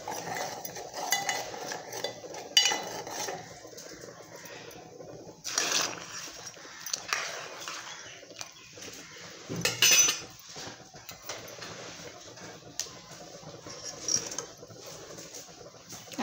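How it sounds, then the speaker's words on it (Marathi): Red chilli powder and masala being stirred into roasted coconut in a pan, a spoon scraping and clinking against the metal in irregular strokes, close and fairly quiet, with a few louder knocks. "आता आपण लाल तिखट टाकून घेऊ, मसाला, एकदा मिक्स करून घेऊ हे सर्व"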